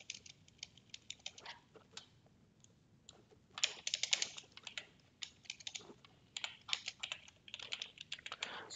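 Close, crisp bursts of typing on a computer keyboard: quick clusters of key clicks with short pauses, heaviest around the middle and end, and no voices.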